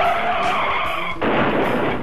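A race car, a Camaro driven at the Daytona Road Course, skids and spins into the sand trap. Loud engine whine and tire scrub give way to a sudden rough roar of gravel and sand spraying, close and unbroken.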